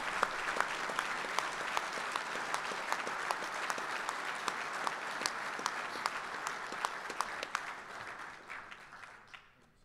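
Sustained applause fills a banquet hall at a Marine Corps logistics awards dinner, a dense wash of many hands clapping with sharper individual claps standing out, steady for several seconds before slowly tapering off.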